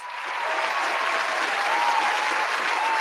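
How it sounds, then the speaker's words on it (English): A round of applause from an audience, dense steady clapping that swells slightly and holds loud and close, with no speech. "Give her a round of applause."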